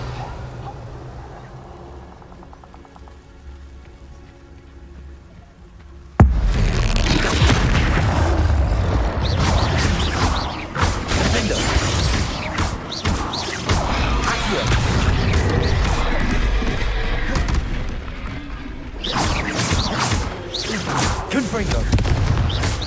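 Expulso explosion spells in Hogwarts Legacy, a sudden loud blast after a quiet stretch followed by repeated booming impacts, crashes and rumbling debris that keep going, with a voice casting spells at times.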